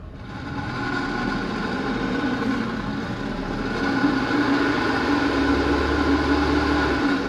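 2026 Toyota RAV4 AWD straining off-road as it tries to climb, a steady close engine drone that swells louder partway through, with no talking.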